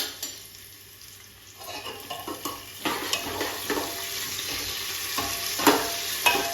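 Chopped tomatoes are tipped into browned fried onions and stirred for a pea pulao, giving a close frying sizzle with repeated spoon scrapes and clinks against the pot that grow busier and louder as stirring goes on, with no talk.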